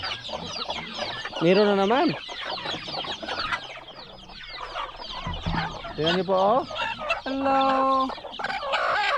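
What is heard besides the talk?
newly hatched chicks and hens clucking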